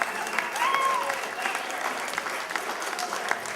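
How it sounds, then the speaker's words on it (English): An audience applauds Steve and his mother Debbie, a steady, dense wash of clapping with crowd noise throughout and a brief tonal whistle-like sound early on. "How about a round of applause for Steve and his mother, Debbie?"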